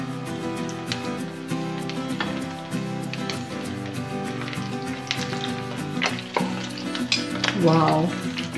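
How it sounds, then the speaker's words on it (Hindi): Cheese-stuffed cutlets shallow frying over a medium flame in a pan give off a steady, close sizzle that runs the whole time with no voices. "अपने कटलेट्स को शेलो फ्राई करेंगे।"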